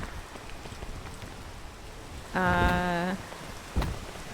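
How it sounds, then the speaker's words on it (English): Steady soft rain patter in the video game PEAK fills the background, interrupted by a short bright chiming tone and a brief thump near the end. "Intermittent rain."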